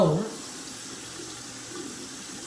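A bathroom faucet runs steadily while someone washes their face. A brief louder splash opens the clip, then a soft, even stream of water continues, with a voice talking faintly underneath.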